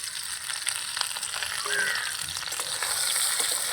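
Pointed gourd (kakrol) pieces fry in oil in a pan, giving a moderate, steady crackling sizzle with small scattered pops, heard close and alone.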